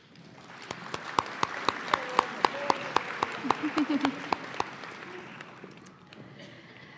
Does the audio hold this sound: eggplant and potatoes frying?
no